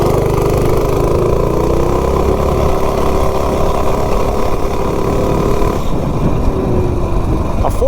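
Minibike with a 196 engine on a test run with a Juggernaut driver, a loud, close engine holding a steady drone with a rising whine, then easing off toward the end.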